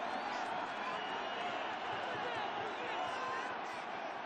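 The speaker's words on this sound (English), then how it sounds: "This Buffalo crowd letting them have it." A simulated Buffalo stadium crowd in the Madden 26 football video game, a dense, loud, continuous roar filling the whole stretch without a break.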